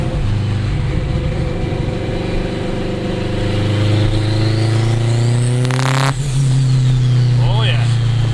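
An 800 HP all-wheel-drive turbocharged 2002 Acura RSX Type-S with straight pipes drones loudly from inside the cabin, its engine note climbing steadily before a sharp shift and a fainter turbo whoosh near the end.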